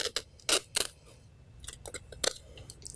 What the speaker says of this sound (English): Make a diagonal cut at the base